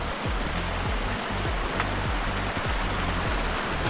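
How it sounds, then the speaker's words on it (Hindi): A mountain waterfall along the Shrikhand Mahadev trek path pours in a loud, steady rushing roar heard up close, filling the whole stretch with continuous splashing water and no voices. "ये है रास्ते में आने वाला पहला झरना।"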